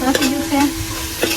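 Oil and chili sizzling in a pan for a fish curry, with short bursts of frying hiss and stirring scrapes, close and fairly loud.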